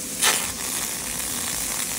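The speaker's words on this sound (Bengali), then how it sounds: "সাথে সাথে খাওয়ার জন্য মরিচ, টমেটো ফ্রাই করে নিচ্ছি।" Chillies and tomatoes fry in a pan with a continuous close sizzle that spits more loudly for a moment near the start, then settles into an even crackle.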